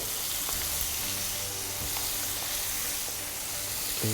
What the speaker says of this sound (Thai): มาเรามาเริ่มทอดกันเลย ใส่ลงไปเลยนะครับ กระจายให้ทั่ว กุ้งสุกง่ายครับ ทอดแป๊บเดียว